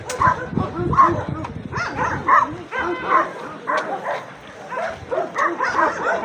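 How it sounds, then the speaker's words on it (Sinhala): Dogs of several breeds bark at a Saturday market in Romania, sending out repeated close barks and yips in uneven bursts. Crowd noise and voices are mixed in around them. "එක එක වර්ගයේ බල්ලෝ ටිකක් ඉන්නේ"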